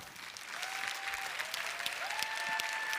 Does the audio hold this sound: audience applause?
yes